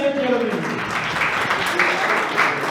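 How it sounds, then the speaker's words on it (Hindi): Applause rises from a gathering at a youth association event at a resort, a steady wash of clapping with voices briefly audible at the start. "एक बार जोरदार तालियां।"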